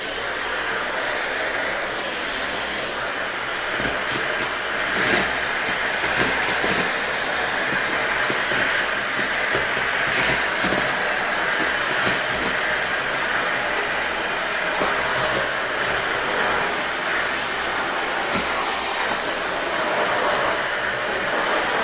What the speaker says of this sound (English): We're gonna go ahead and turn this vacuum on, and I'll see how well it cleans up.